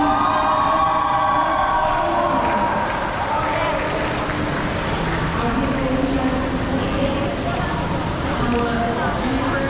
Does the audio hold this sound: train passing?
yes